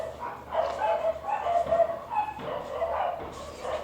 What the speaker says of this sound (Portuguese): Daí chega o carteiro, daí os cachorros latem.